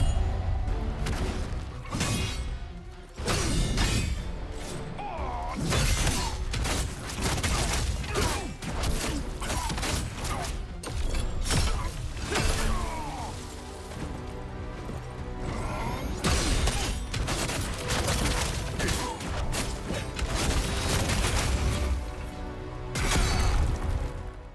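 Whirlwind attack combo from The First Berserker: Khazan, dual wield and greatsword boss fight, a dense run of repeated metallic slashes, crashes and thuds, loud and continuous with brief pauses over game background sound.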